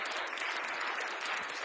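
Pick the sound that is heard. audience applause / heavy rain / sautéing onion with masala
audience applause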